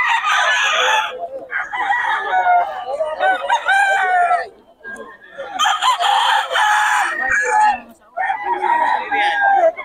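Roosters for sale at a Philippine market in Bocaue crow and cluck loudly and repeatedly at close range, with someone talking in the background.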